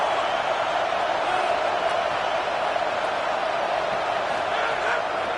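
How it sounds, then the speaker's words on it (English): Loud, sustained roar of a stadium crowd backing the defense on third down in an NCAA college football video game, an even wall of noise that holds steady with no pauses. "Decibels rising as the crowd gets behind this defense on 3rd down"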